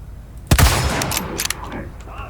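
Video-game gunfire in Resident Evil 4: a sudden loud burst of shots followed by a few sharper cracks, ringing out over a steady background rumble.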